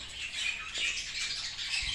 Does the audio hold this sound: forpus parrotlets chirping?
yes